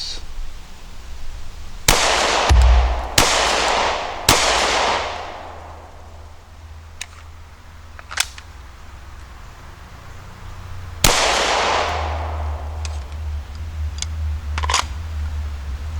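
Hollow point rounds fired from a handgun at a shooting range, about five sharp loud shots spaced unevenly a second or more apart, each with a short echoing decay, no talking.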